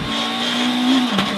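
A rally car on the Doraville stage of the 2013 Tour of the Sperrins drives hard, its engine a loud, steady drone that rises slightly before a brief tire squeal near the end.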